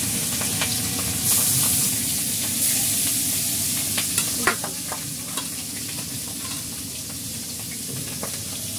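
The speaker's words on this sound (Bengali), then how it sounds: "প্রথমে পাবদা মাছ ভেজে নিচ্ছে" Marinated pabda fish fries in plenty of very hot oil, giving off a loud, continuous sizzle and hiss heard close up, broken by occasional sharp spatters and clinks of stirring, with no talking.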